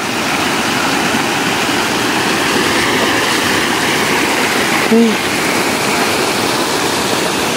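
Loud, steady rushing floodwater from a typhoon roars without a break into a tilapia fish pond, with a brief voice near the middle.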